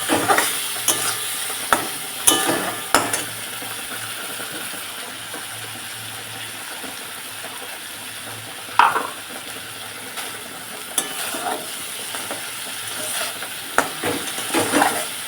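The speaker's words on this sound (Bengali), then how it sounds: "যেটা রাঁধুনি সর্ষে আর পোস্ত বাটাটা আমি এর মধ্যে দিয়ে দিচ্ছি এবার হালকা হাতে একটু আস্তে আস্তে নেড়ে নেবো" Hilsa fish in a pan with mustard and poppy seed paste, stirred gently with a utensil: a soft steady sizzle under intermittent scraping and clinking strokes against the pan, close up and without any talking.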